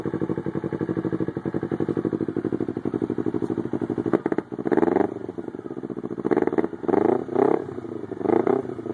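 Close, loud idle of a Kawasaki Ninja 250 motorcycle with a Two Brothers exhaust: a steady, even putter that breaks into several short revs blipped one after another near the end.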